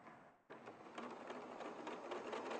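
A sewing machine running a quarter-inch seam with a quarter-inch foot, starting abruptly and continuing as a steady fast whirring hum with rapid needle ticks, quiet and close with no speech.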